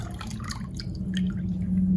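Water poured over brown rice in a bowl gives scattered drips and splashes over a low steady hum, with the liquid sounds close by and fairly soft.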